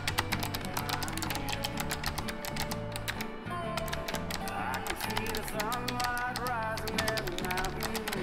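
Rapid clicking keystrokes on a Logitech Lightspeed keyboard run continuously and close, layered under steady background music.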